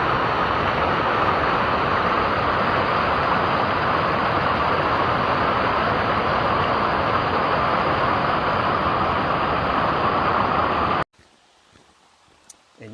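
A flooded mountain creek on a Grayson Highlands trail roars loudly and steadily as broadband rushing water, close and continuous, then cuts off abruptly near the end to near silence.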